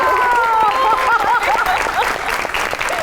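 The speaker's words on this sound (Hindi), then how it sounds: "आपकी बहुत सी तालियों में डॉक्टर खतूबा।" Studio audience applause on a Pakistani TV comedy show, a dense, steady wash of clapping heard fairly close while music with a sung or whistled melody plays over it.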